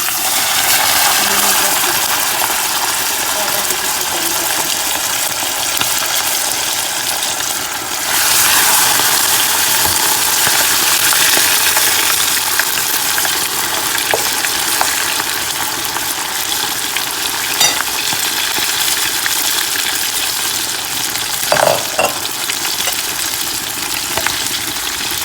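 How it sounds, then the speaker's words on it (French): Fish fries in oil that is far too hot, giving a steady, dense sizzling hiss throughout, with occasional sharper pops and crackles. "donc maintenant je vais faire frire. Mon huile est beaucoup trop chaude"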